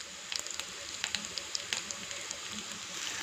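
Green chili, ginger, garlic, curry leaves and a bay leaf fry in hot oil in a pot for dal khichadi, a soft steady sizzle with scattered small pops and crackles at low volume.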